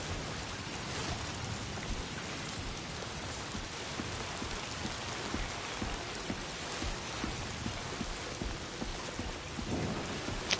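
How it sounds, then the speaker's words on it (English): Steady rain in an open-world driving game, a dense, even hiss of falling drops with a low rumble underneath, constant and moderately loud throughout with no voices. "I can't even go out there, it's raining."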